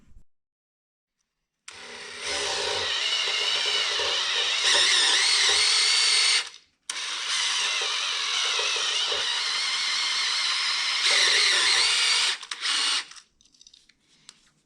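A power drill runs loud and close in two long sustained bursts while building a 383 stroker engine, with a brief pause between them, then winds down.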